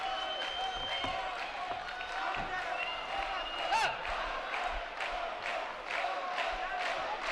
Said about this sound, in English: There's a big Mexican contingency right above the ring, and they're cheering their man on.